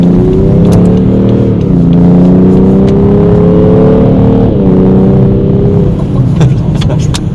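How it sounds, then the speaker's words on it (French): A BMW 435d xDrive diesel car engine runs steadily at a low rumble, its pitch rising and falling slightly as it revs, close and loud throughout. "Regardez, ça marche le moteur."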